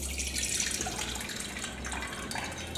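Wheat grains being rinsed in water for wheat kheer: a steady, close sloshing and running-water wash with broadband splashing throughout, no voices.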